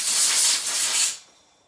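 Compressed air blasts through a cleaned Stihl MS460 chainsaw carburettor in a single close, loud, broad hiss lasting just over a second before dropping away to quiet.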